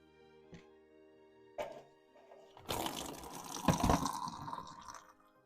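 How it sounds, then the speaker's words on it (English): Fuel draining from the tank of a Vauxhall 14/40 vintage car splashes and trickles into a container, starting with faint drips and swelling into a louder pouring gush before tapering off. "I just want to drain the fuel"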